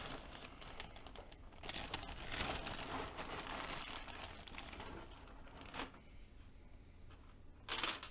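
Paper being crumpled and handled beside a carbon fiber keyboard build, a low continuous crinkling and rustling that swells and fades over several seconds, quiet and close, with no talking.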